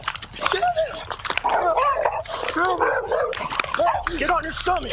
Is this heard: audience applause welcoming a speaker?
no